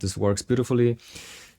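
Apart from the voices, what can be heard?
No everyday noises stand out.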